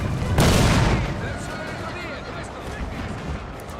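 Cannons fire in the Napoleon: Total War battle game, a broad booming blast followed by rumbling, scattered battlefield noise, with a voice talking over it.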